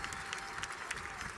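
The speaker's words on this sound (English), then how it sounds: "Join me in a round of applause for Dr. Francisco Rodriguez" Commencement audience applauding for an honoree, a steady wash of many hands clapping at moderate level throughout, without pause.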